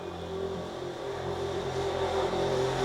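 A motorcycle passes by outside, heard as a steady, fairly distant engine drone that holds level for about three seconds with no voices over it.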